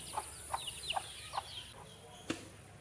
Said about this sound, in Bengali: এই মুরগিগুলোকে এখন মানুষ করতে হবে।